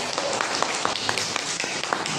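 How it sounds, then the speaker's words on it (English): Young kindergarten pupils clap their hands in a classroom during an English lesson, a busy uneven patter of many small claps with a faint voice underneath. "Very good. Clap for yourself."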